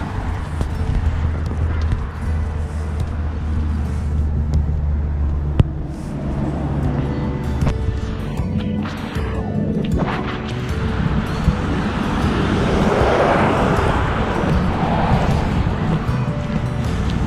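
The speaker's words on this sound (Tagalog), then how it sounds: "Meron pa rin tumatakbo mga sasakyan." Cars drive by on a street during quarantine, a steady rumble of passing traffic with engine whooshes swelling and fading, a sharp knock near the middle, and a person talking over it at points.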